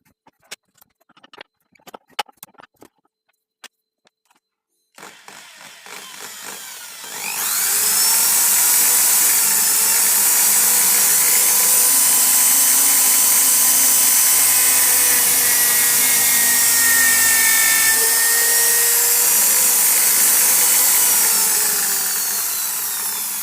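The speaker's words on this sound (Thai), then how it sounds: "ผมจะต้องการเจาะทะลุ เพราะฉะนั้นเราต้องปรับระยะ ลงไปอีกนะครับ" A drill press on a bench stand cutting through wood, preceded by a few scattered clicks and knocks, then the motor spins up into a loud, steady whirring grind that holds close and constant for about fifteen seconds.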